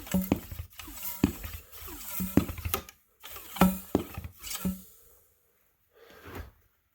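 An antique Barnes air pump, restored with period-correct hose and clamps, is worked by hand in a run of close, rhythmic mechanical clanks and squeaky strokes, with a pause and then one last short stroke.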